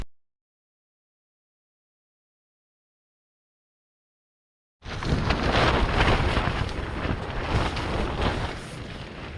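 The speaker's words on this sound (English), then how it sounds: "it is super windy. Much windier than what it was last night" After several seconds of silence, a strong wind roars in at a campsite, buffeting the microphone with loud, continuous gusty noise.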